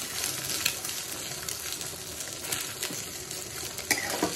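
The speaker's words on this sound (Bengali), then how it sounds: "বেগুন কেটে রেখেছি, বেগুন ভাজবো।" Eggplant slices fry in hot oil with a steady close sizzle and crackle, a few sharper pops standing out, no voices.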